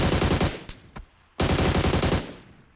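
Rapid automatic gunfire in PUBG Mobile comes in two close, loud bursts separated by a short gap with a couple of single shots.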